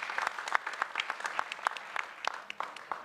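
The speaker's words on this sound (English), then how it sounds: "An applause to Felipe, please." A small conference audience applauds a speaker on a panel about leading in a post-truth world, a brief, fairly close patter of scattered individual claps.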